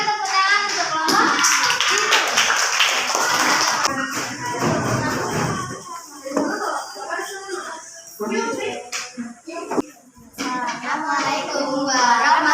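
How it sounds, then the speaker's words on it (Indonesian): Students in a classroom clap together for a group in uneven bursts, with children's voices and chatter mixed in. The clapping is close and loud, fades briefly, then picks up again. "berikan tepuk tangan untuk kelompok."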